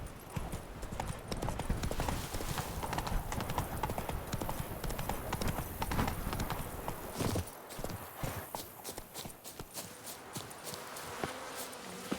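Roach, a horse in The Witcher 3: Blood and Wine, gallops with fast, dense clip-clop hoofbeats that stay loud and close throughout, set against outdoor game ambience with faint buzzing insects.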